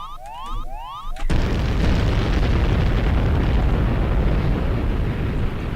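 A bomb blast in the video game Syndicate Wars, one sudden loud explosion after a short burst of sliding electronic tones, then a long, dense roar that keeps rumbling for several seconds.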